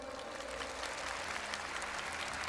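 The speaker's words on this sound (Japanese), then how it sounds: "助けてくださる方、拍手お願いします。" Fans at a gaming fan festival event applaud together, a soft, continuous, distant wash of crowd clapping.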